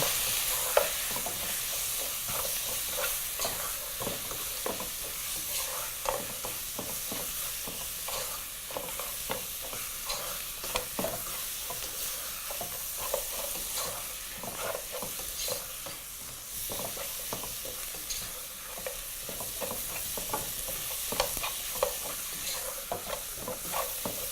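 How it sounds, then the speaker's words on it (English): Mutton biryani base frying in a pot as curry powder and paprika are stirred through, giving a steady close sizzle with constant scraping and stirring clatter over the full length, no voices. "we're also going to add our paprika powder and proceed to mix through"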